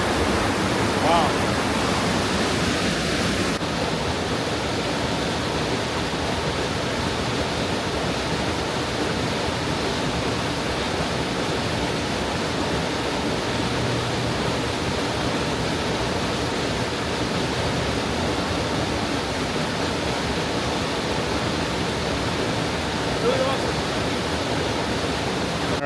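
A creek at Great Falls rushes steadily, a dense, even roar of water close by that runs unbroken for the whole stretch without pauses.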